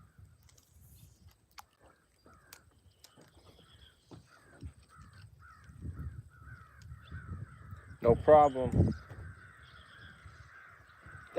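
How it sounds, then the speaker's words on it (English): Crows cawing by a fishing pond, scattered calls early on, then a loud cluster of harsh caws near the end, while someone speaks briefly. "Dang, birds."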